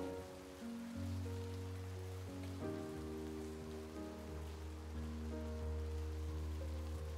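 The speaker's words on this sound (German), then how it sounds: "Oh nein, heute regnet es zum ersten Mal, seit ich hier eingezogen bin." Steady rain patters in the video game Behind the Frame, a constant soft wash with no voices, layered under sustained mellow music notes.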